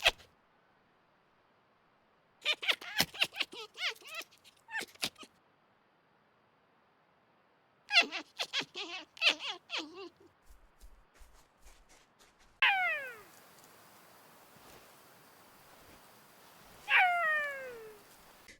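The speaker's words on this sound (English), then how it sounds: "I think the vocalizations from these guys are pretty awesome and very well done" Golden jackals in the hunting game Way of the Hunter giving bursts of high yipping, wailing calls. Three separate choruses are broken by silence, followed by descending howls against a faint windy background.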